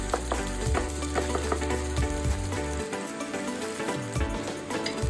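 Onion pieces and ginger paste frying in a pan for prawn curry, a dense continuous sizzle with scattered clinks and scrapes of a spoon stirring, close and fairly loud, no talking.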